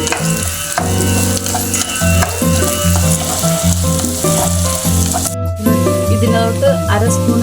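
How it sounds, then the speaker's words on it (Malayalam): Urad dal frying in a pan while being stirred, a steady sizzle running underneath prominent background music throughout. "ഉഴുന്നിട്ട് കുറച്ച് നേരം ഇളക്കിക്കൊണ്ടിരിക്കുക"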